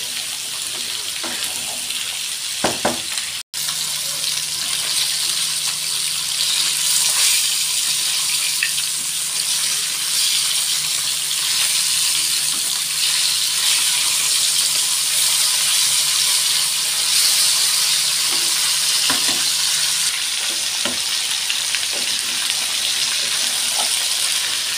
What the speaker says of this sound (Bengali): তেলের উপর বেশ অনেকক্ষণ ভেজে নেব।